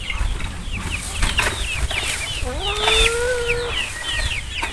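Chickens cluck and squawk repeatedly at close range, with a rising drawn-out call in the middle and a faint background hum.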